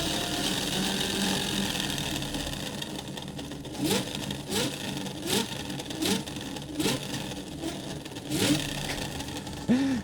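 A homemade electric generator driven through a 16:1 gearbox runs with a continuous whirring hum, punctuated by periodic louder surges and clunks at a regular rhythm; close, with no talking.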